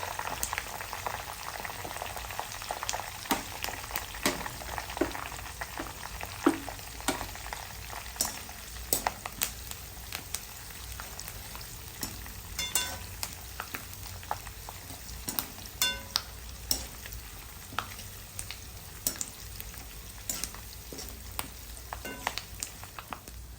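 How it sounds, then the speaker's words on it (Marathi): Curry leaves fry in oil over a low flame for a chiwda made with puffed rice, giving a steady, close bubbling sizzle with frequent sharp crackles and pops throughout. No voices. "आपल्याला कढीपत्ता एकदम कमी फ्लेमवर फ्राय करून घ्यायचा आहे."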